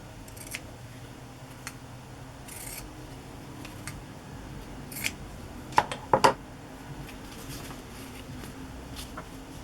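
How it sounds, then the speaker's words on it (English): Pinking shears snipping through fabric or paper at close range, a few sharp crisp cuts clustered near the end over a quiet hissing background, with scattered lighter clicks earlier. "Brought my pinking shears over too."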